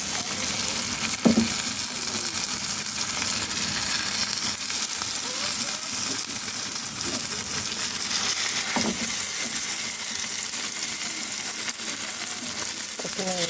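Mashed ridge gourd bharta fries in a pan, a loud, steady hiss of sizzling oil throughout, broken by a few soft scrapes and stirring knocks.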